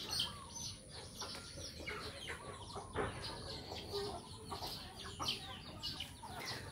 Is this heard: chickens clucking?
yes